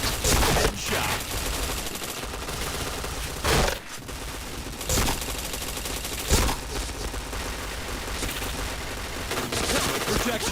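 Gunfire in an online shooter game is heard as a dense barrage of shots, with several sharp loud bursts standing out over continuous game noise and some background voice chatter.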